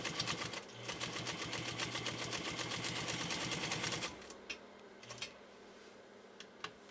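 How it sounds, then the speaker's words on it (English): Pfaff 230 sewing machine stitching, a close, rapid, even mechanical clatter for about four seconds that then stops, followed by a few scattered clicks and taps against quiet. "see how straight Scott can sew today"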